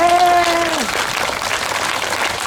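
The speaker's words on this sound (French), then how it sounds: "Merci Lucien, un petit applaudissement." Applause from a crowd at a naval festival fills the clip, dense and steady, with a brief tonal sound fading out at the start.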